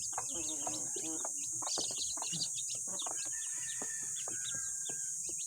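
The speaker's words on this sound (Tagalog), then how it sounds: "yung ating bagong pisa na sisiw" Newly hatched chicks peep in quick, high, overlapping chirps close by, with occasional louder clucks from the flock and a steady high hiss behind them.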